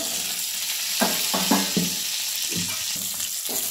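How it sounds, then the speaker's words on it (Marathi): Stuffed brinjal frying in oil in a pan, a steady sizzle with several brief louder bursts of bubbling and stirring scrapes, close and continuous with no talk. "1-2 मिनिटं अशी जरा तेलात परतून घेऊया बघा"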